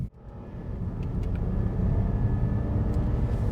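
A BMW E90 on Maxpeedingrod T6 performance coilovers drives along an on-ramp behind traffic, with a steady low engine and road rumble building slightly in the cabin and no voices.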